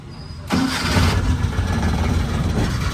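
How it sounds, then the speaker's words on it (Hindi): A Maruti Omni van engine cranks and catches abruptly, then settles into a steady, close mid-pitched idle with no talk. "तो गाड़ी स्टार्ट हो गई है"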